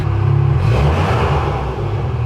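A big-turbo Volkswagen GTI with a full custom exhaust idles loudly and steadily, its deep, throaty rumble filling the whole stretch with only slight swells.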